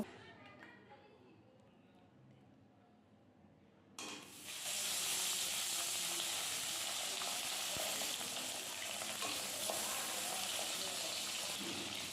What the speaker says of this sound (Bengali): মাছগুলো মাখিয়ে নেওয়ার পরেই কড়াতে আমি সর্ষের তেল দিলাম তেলটা গরম হয়ে যাওয়ার সাথে সাথেই মাছগুলো